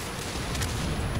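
A single heavy tank cannon blast in World of Tanks rumbles out, deep and booming, with a rolling low-end tail that fills the short moment.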